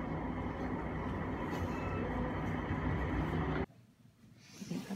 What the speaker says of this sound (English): hitting you up with that train footage